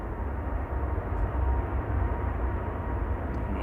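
A KLM airliner on approach to Manchester Airport gives off a low, steady rumble, with the distant roar holding level and no voices present.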